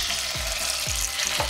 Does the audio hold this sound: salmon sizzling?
yes